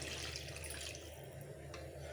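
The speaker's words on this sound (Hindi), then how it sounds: "अब यहाँ पर मैं पानी रख दे रही हूँ गर्म होने के लिए।" Water running into a cooking pot on a home stove to heat for Bengali khichdi, a steady broadband splashing stream heard close and alone throughout.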